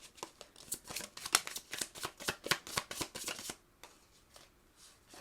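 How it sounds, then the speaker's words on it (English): Oracle cards being shuffled and pulled from a deck, a close, crisp burst of rapid riffling card flicks that stops abruptly and leaves a quiet pause. "let's pull some final love oracle cards for you"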